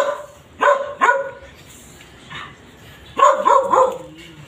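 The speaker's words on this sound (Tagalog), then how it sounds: "ang ingay nitong aso nito" A dog barks twice in quick succession, pauses, then lets out a short burst of several more barks, fairly close with a faint background hum.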